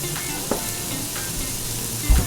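Burger patties seasoned with smoked truffle salt sizzle in a pan with a steady, close frying hiss and a couple of brief pops.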